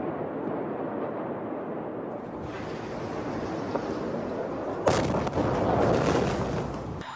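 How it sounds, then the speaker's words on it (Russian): Eyewitness recording of the Beirut port explosion, a warehouse of ammonium nitrate, with a sustained deep roaring rumble and then a sudden loud blast followed by a broad rushing boom. "очевидцам удалось снять на видео момент взрыва"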